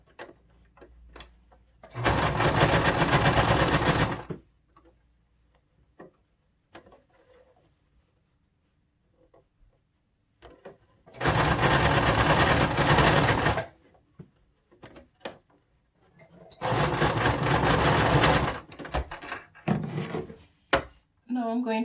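A sewing machine stitches elastic onto a fabric face mask in three loud, steady runs of a few seconds each, with quiet handling clicks and rustles between the bursts.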